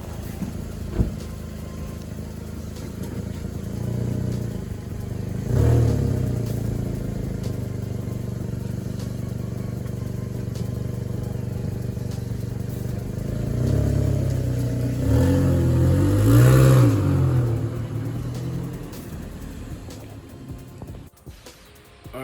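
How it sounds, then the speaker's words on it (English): A car drives off after a tire change, its engine humming steadily and swelling twice as it accelerates, moderately close with no talking. "I'm gonna just take it for a drive"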